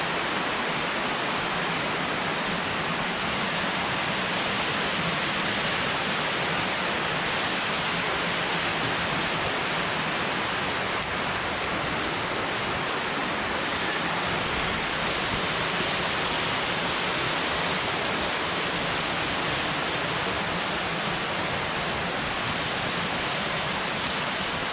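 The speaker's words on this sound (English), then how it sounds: "How far up that waterfall goes." Waterfall cascades of Beaver Brook on Mount Moosilauke rush in a steady, loud, broadband roar throughout, with no talk over the water.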